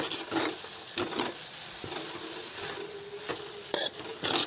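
Cabbage, onion and tomato stirred in a pan after turmeric goes in, giving a few scattered clinks and scrapes of a spoon against the pan, moderately close and with no talk.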